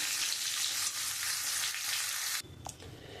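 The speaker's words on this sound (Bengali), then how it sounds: "আমি মাছের মাথাগুলো একদম লাল লাল করে ভেজে দিয়েছি" Rohu fish heads frying in oil until deep red, a loud dense crackling sizzle that cuts off abruptly, leaving a quiet hum and a couple of small clinks.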